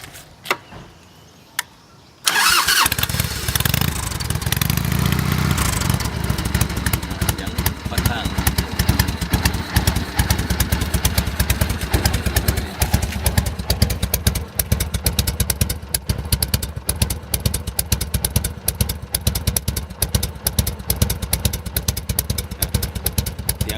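A 1998 Harley-Davidson Heritage Softail engine fires up after a couple of clicks, then idles with a steady, rapid, uneven putter that continues close by.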